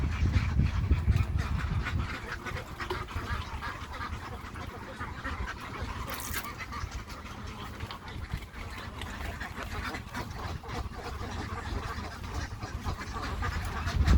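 Farm ducks quack in a steady, overlapping flock chorus that continues throughout, loud and close with constant background clatter.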